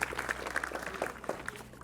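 Scattered applause from a gathering at a Bissa cultural durbar, a thin crowd clapping loosely with distinct individual claps standing out against a low background hum.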